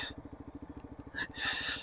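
An adventure motorcycle heads downhill with a steady, pulsing low engine thump, moderately near, with brief hissy bursts of wind or gravel noise toward the end.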